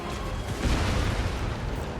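Hell Cannon artillery fire in the Total War Warhammer 2 video game forms a dense, continuous rumble of booms and battle din, loud and unbroken throughout.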